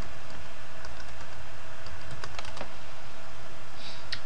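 Keys clatter on a computer keyboard while an IP address is entered, a run of quick, close clicks with a few sharper taps near the end.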